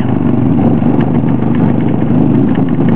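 Small electric motor spinning freely at high RPM on 4 volts, no load attached, giving a steady, continuous close-up hum with no breaks for the whole stretch.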